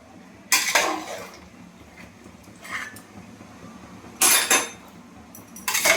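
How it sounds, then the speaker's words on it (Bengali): Curry of young bottle gourd being stirred in a pan: a few separate bursts of metal spoon scraping and clinking against the cookware, with quiet gaps between them. "ভালো করে নেড়ে নেড়ে নেড়ে নেড়ে নেড়ে নেড়ে করতে হবে"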